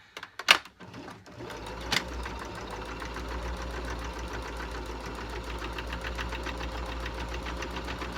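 A sewing machine stitches a cloth face mask, running in a steady, fast mechanical chatter for several seconds after a few sharp clicks at the start, close and clear with no talk.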